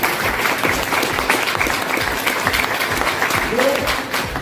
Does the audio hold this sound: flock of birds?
no